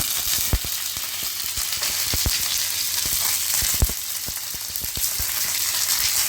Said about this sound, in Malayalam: ഇപ്പോൾ വെളിച്ചെണ്ണ ഒഴിച്ച് പാനിലേക്ക് കടുക് തളിച്ചു.